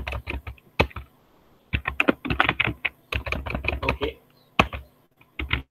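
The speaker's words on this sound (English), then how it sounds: "Just not able to type well." Close-up keystrokes on a computer keyboard come in irregular bursts of rapid clicks separated by short pauses.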